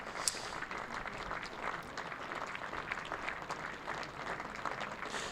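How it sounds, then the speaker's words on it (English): Crowd applause at a county championship cricket match between Durham and Worcestershire as a batsman is dismissed caught behind, a steady ripple of clapping from a modest crowd at a moderate distance, sustained throughout without talk. "the applause you can hear is for the Durham debutant Rachin Ravindra, who has just been dismissed"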